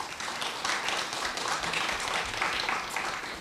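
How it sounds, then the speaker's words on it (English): Audience applause during a talk honoring a journalism award, a dense wash of clapping heard somewhat distant and fairly quiet, steady throughout. "Another round of applause for that."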